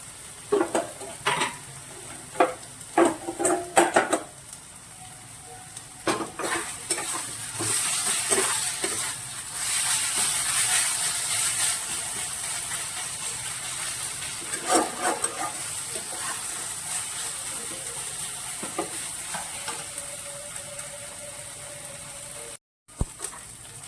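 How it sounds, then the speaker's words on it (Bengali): Spices fry and sizzle in a pan for aloo potol chingri, with steady hissing broken by bursts of scraping and clattering as they are stirred, close and fairly loud, and no talk. "মশলাটা এখানে ভাজা হয়ে গেছে।"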